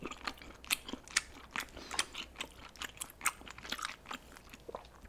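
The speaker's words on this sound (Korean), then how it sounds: "요거를 스리라차 찍어 먹어보자" Close, wet chewing and crunching of seafood such as scallop dipped in sriracha during a mukbang, with irregular bites and smacks repeating rapidly throughout.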